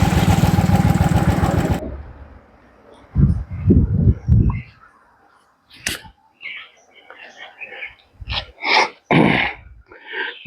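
A motorcycle engine idles close by in a quiet forest near Kotabagh and Pawalgarh, a steady low rumble that cuts off after about two seconds, followed by scattered short rustles and knocks.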